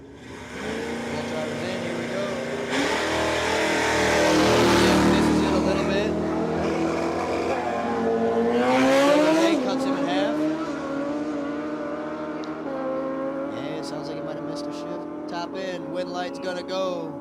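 At a drag strip in Illinois, a heavy drag racing truck roars off the line, its engine climbing through loud, rising revs and fading down the strip, while an announcer talks over it throughout.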